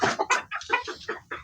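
Farm-raised chickens give a quick run of about eight sharp, close clucks in an uneven rhythm, loud and clear with no talk over them.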